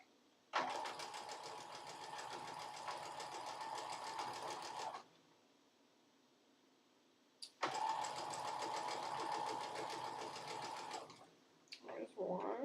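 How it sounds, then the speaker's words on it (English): A sewing machine stitches fabric squares into a four-patch in two long, steady bursts of close, even whirring and clatter, separated by a quiet pause, with a few brief handling clicks at the end. "nest up those seams really well, line up the edges, and sew them up together"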